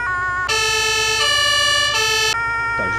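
An emergency vehicle siren in the video game Farming Simulator 22 wails loudly and steadily, switching between tones with a brief gap, over a low engine rumble.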